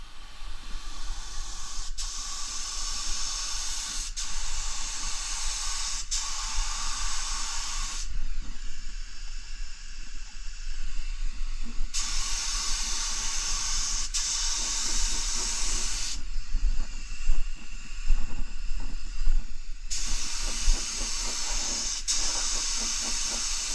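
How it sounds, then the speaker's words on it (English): A spray gun applies high-build polyurethane primer surfacer over epoxy primer on bare metal, a loud steady hiss in long passes broken by brief pauses, with an underlying low compressor rumble throughout. "This is the high build primer that I'm going to be applying."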